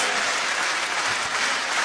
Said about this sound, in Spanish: el aplauso para Lito, los músicos, los intérpretes